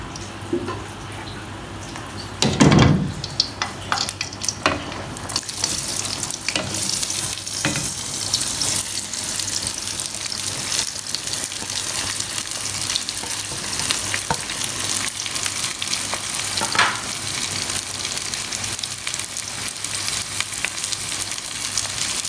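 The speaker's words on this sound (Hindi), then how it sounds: "अब इसके अंदर हम डालेंगे प्याज" Onions for chicken biryani hit a cup of hot oil with a sharp burst of sizzle, then keep frying in a steady, dense crackle with occasional stirring clinks, close and sustained with no talk.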